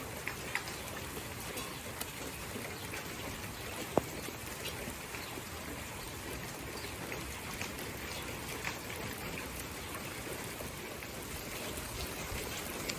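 Steady rainfall, an even hiss of drops pattering on surfaces with a trickle of water underneath, continuous and unchanging for the whole stretch, with a couple of sharper drip ticks and no voices.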